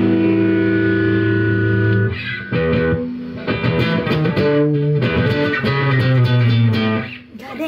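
A voice on a TikTok live stream microphone comes through heavily distorted, with buzzing, warbling harmonics and a processed echo running loud and continuously for several seconds.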